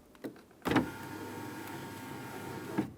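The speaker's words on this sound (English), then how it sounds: "you're going to put your window switch down" Electric power window motor of a 2007-2015 Mazda CX-9 door with its handle being replaced, heard up close as a steady whirring hum for about two seconds, bracketed by a click at the start and a thunk as the glass stops.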